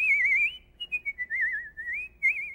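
A single person whistles a wavering, warbling tune, bright and close, in short phrases with brief pauses between them, alone without talk.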